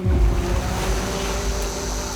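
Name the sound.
sea waves at the ocean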